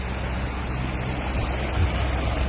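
Steady, unbroken low rumble of a boat engine running on calm open sea near Greece, a dense droning hum with wash and faint wind noise, constant and close throughout.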